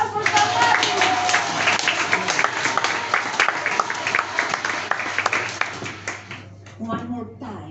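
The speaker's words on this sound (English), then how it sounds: "Applause for somebody!" A theatre audience at a Greek newspaper-theatre performance breaks into lively, dense applause with distinct individual claps. Voices mix in, and the applause tapers off as a speaker resumes at the end.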